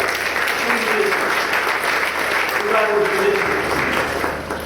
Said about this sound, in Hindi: क्वायर के लिए तालियां बजाए